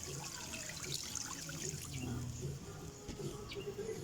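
Water is poured into a cooking pot for a sardine and noodle dish, making a soft, continuous trickling splash close by against a dull low background.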